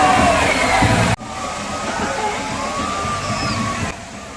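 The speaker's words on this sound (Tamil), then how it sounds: "இங்கே செயற்கை பால்ஸை ஒரு மணிக்கு ஓப்பன் பண்ணியிருக்காங்க" Artificial waterfall with people bathing beneath it: steady rushing, sloshing water fills the whole stretch, loud at first and then a touch softer after a sudden cut, with faint voices mixed into the spray.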